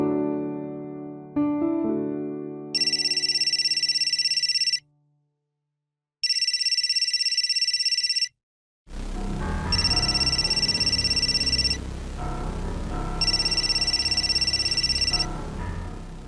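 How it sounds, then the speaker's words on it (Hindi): A telephone rings in a repeating electronic pattern of bursts with short gaps. It is loud and close, and it starts after some soft musical tones, then continues over a noisier room background. "सुधीर का फोन है क्या?"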